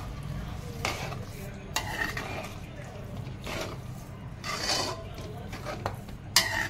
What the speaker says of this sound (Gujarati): 400 ગ્રામ જેવી મેં સાકર નાખી છે. હવે એને મિક્સ કરી નાખવાનું.